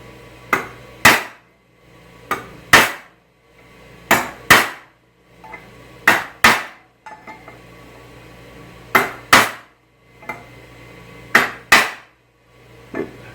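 A hammer drives a chisel into a metal quarter window bracket for a 1965 Thunderbird convertible, sharp ringing strikes in pairs repeated at a steady pace, close and loud with quiet gaps between.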